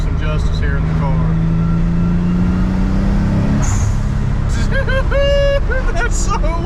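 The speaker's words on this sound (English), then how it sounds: "when you are boosting, this thing screams" Twin-turbo Nissan 300ZX engine heard from inside the car, a loud continuous drone rising in pitch as it accelerates under boost, with brief tonal whines and chirps later on.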